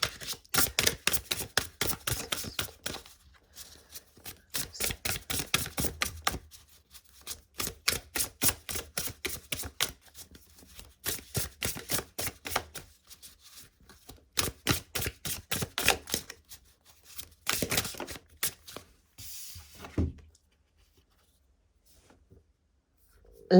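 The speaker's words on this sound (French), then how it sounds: "je vais prendre une carte de pleine conscience et voir un petit peu quel est le message pour ce tirage" Cards from a mindfulness deck are shuffled and handled, giving rapid dry clicking and riffling bursts in repeated runs separated by brief pauses, close and quiet, settling to near silence at the end.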